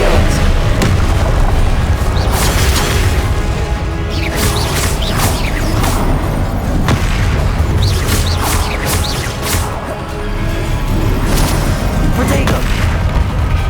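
Repeated booming blasts from the Confringo spell in Hogwarts Legacy, landing every second or two amid a loud, steady wash of combat sound.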